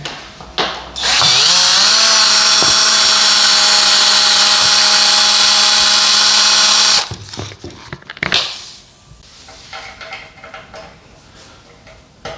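Power screwdriver backing screws out of old baseboard trim while an old village house is renovated, a loud sustained motor whine for about six seconds, then a quick stop followed by softer clatter and quieter follow-up noises.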